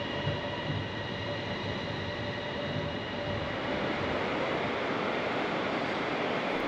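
The Bangkok Suvarnabhumi Airport Rail Link train rumbles along steadily with a continuous roar and faint high whine, heard close from inside or near the carriage, no voices.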